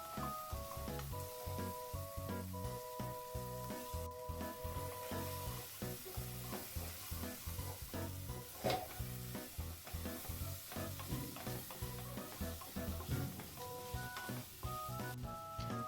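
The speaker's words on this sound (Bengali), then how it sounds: "পেঁয়াজটা দিয়ে আলুটা আরও কিছুক্ষণ আমি সুন্দর করে ভেজে নেব" Potatoes and onion fry in a pan with a soft continuous sizzle and occasional stirring, partly buried under tonal background music that runs throughout.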